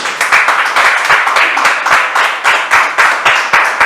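A church congregation claps in a steady, rhythmic unison beat, loud and close, with voices faintly mixed in.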